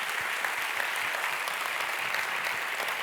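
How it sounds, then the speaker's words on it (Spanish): A lecture audience claps in sustained, dense applause, steady and even for the whole stretch, with no voices over it. "brindarle un último gran aplauso a Julieta Venegas"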